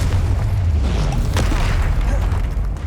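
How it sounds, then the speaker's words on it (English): A Confringo explosive spell in Hogwarts Legacy, a loud, deep boom with a rumbling burst that fills the short moment, followed by a faint crackle. "Confringo."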